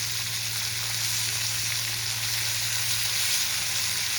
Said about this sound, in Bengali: আমি চিংড়ি মাছটা দিয়ে দিয়েছি, নুন হলুদ মাখিয়ে হালকা লাল করে ভেজে নেব